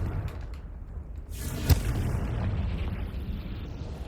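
Confringo blasting spell detonating in Hogwarts Legacy, a single sharp boom with a burst of crackle amid a rumbling game soundscape, followed by lingering low-end rumble.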